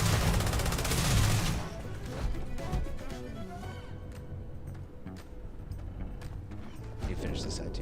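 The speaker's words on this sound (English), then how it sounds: "I upgraded his gun. His auto gun." Automatic gun fire in the video game Starfield, a dense burst of rapid shots at the start followed by scattered mechanical clatter and impacts, with someone talking over it.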